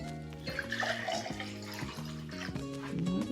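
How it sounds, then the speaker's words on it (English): Water pours into a glass from a tap, a steady splashing stream with a rising tonal gurgle as the glass fills, moderately quiet and close. "I'm going to take my 2 glasses right here, and I am going to fill them both with water"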